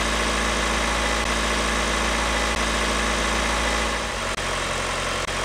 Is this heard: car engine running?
yes